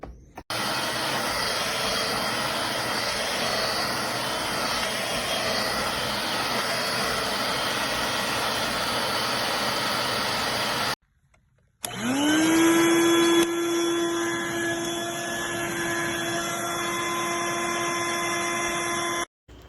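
A Hoover Dirt Devil Vibe 3-in-1 corded stick vacuum cleaner runs with a loud, steady motor roar for about eleven seconds, then cuts out briefly and restarts with a rising whine that settles into a high, continuous drone.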